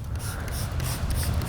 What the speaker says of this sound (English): You simply spray it on the surface